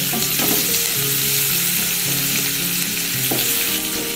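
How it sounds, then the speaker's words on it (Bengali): Onions fry in oil in a pan while being stirred, a loud continuous sizzle with rhythmic scraping of the spatula, close up and without voices. "এভাবে পেঁয়াজটা একটু নাড়াচাড়া করতে হবে।"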